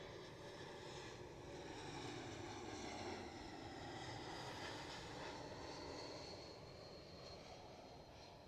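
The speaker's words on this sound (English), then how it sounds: "a Helvetic Embraer, something we have not seen at all today" A Helvetic Airways Embraer airliner at Zurich airport gives a steady, distant engine roar with a faint whine. The sound swells slightly and then eases, and no one speaks.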